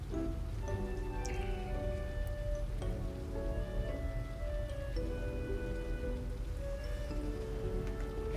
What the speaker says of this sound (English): It's rainy.